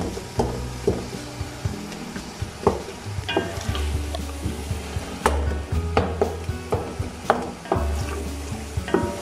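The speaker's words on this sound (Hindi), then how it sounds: "चलिए अब हम इसमें ना चिकन डाल देंगे" Chicken stirred and fried with tomatoes in a pot sizzles close by, broken by repeated scraping and clattering strokes of a spoon against the pot at an uneven rhythm.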